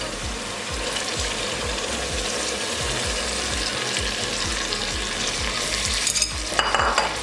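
Soaked, drained moong dal tipped into a pan of sizzling fried spices for a spicy dal fry, with a steady loud frying hiss and repeated scraping stirs throughout.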